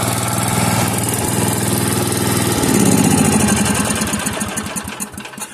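A small generator running with an inexpensive aftermarket Amazon muffler, a loud steady close engine drone that swells briefly, then turns choppier and sputters as it winds down near the end.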